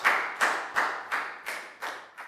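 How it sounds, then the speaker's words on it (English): Claps in a slow steady rhythm from a Year 4 maths class praising everyone, seven crisp in-time claps with a short room echo after each, no voices. "A round of applause for everyone for doing a great job."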